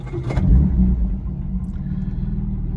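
A 1961 Jaguar E-Type with a fully rebuilt engine fires up on the starter button, a short churning crank then a deep loud rumbling idle close by, no speech.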